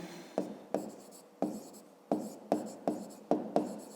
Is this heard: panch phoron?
no